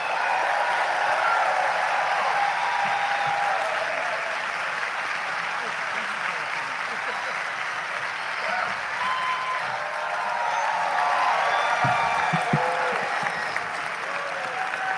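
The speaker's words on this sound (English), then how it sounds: "please join me in a round of applause" Sustained audience applause fills a hall during a Dr. Martin Luther King Jr. celebration at the Brooklyn Academy of Music, steady and dense for the whole stretch with a few louder claps near the end.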